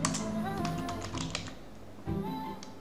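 Close computer keyboard typing of HTML code, quick irregular key clacks in short bursts over a low background hum with faint tonal sounds.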